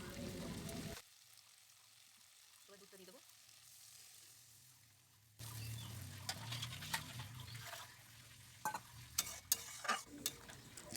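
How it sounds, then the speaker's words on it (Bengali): Prawns in a milk-based malai curry gently stirred in a pan in a village kitchen: soft sizzling and scraping that picks up after a quiet stretch, with clinks of the utensil near the end. "মাছগুলো দিয়ে এবার হালকা করে নাড়াতে হবে।"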